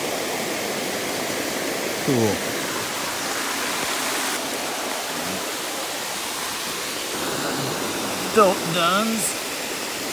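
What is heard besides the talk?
waterfall beside a rocky stream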